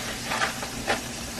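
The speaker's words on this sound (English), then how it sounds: "But my rice water is boiling." Rice water boils in a pot on the stove, a close, steady bubbling hiss with a couple of brief louder pops.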